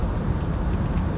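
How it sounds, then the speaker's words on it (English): Outdoor wind at a California rest stop near the Nevada line on a morning road trip, a steady loud rumbling gust buffeting the microphone with no speech. "There's the wind for you."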